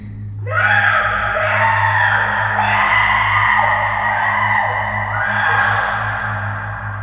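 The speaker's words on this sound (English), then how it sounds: "A piercing scream echoed down the hallway." A piercing, sustained human scream rises and holds for several seconds, echoing as if in a long hall, over a low steady hum.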